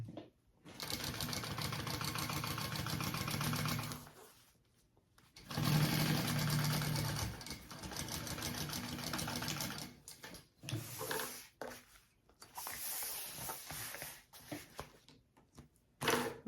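A sewing machine bastes a crossbody bag to its exterior sides, running in long steady whirring stretches broken by brief pauses, close and moderately loud, ending with shorter stop-start bursts.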